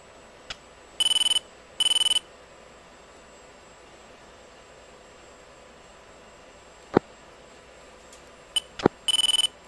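Cockpit warning tone from the Falcon BMS combat flight simulator: two short steady beep bursts early on and a third near the end, with a couple of sharp clicks between them over quiet background hiss.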